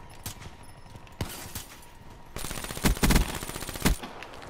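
Bursts of rapid automatic gunfire from the BMP gun in Call of Duty: Black Ops III, with scattered single shots first and then a denser fusillade of close, sharp reports.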